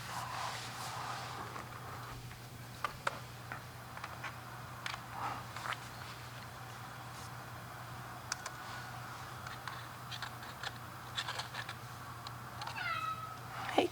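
A cat in a quiet room meows faintly a few times, with soft clicks, shuffles and a low steady hum filling the spaces between calls; one clearer meow comes near the end.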